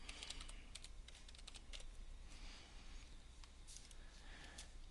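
Computer keyboard typing, bursts of quick, light key clicks in uneven runs with brief pauses, close but quiet over a low steady hum.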